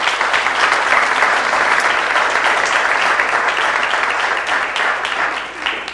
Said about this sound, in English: So give them all a big round of applause,